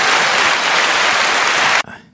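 An audience claps for a runner in a dense, loud burst of applause lasting nearly two seconds before it stops abruptly.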